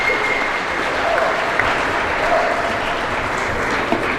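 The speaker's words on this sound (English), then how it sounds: "Let's give a round of applause to Marco." Steady applause from an audience at a high school athletics recognition night, honoring an all-conference player, a dense even wash of clapping filling the room without a break.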